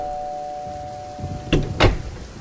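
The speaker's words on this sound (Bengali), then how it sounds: "কলিং বেলটা বেজে উঠল।" A doorbell rings twice in a quiet home on a rainy day, two short bright chimes close together over a faint steady hum.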